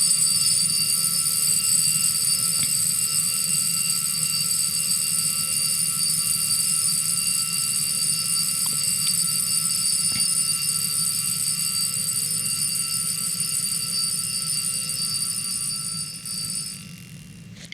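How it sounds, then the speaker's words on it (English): The mechanical alarm of a Jaeger-LeCoultre Memovox wristwatch rings in a continuous metallic buzzing chime, close and steady, fading slightly just before the end. "I want to make you listen to the alarm of mine, so please listen."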